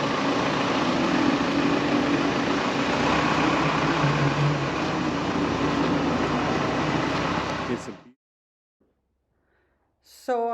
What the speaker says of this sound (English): get the engine started, do some checks on the work that was just completed on the engine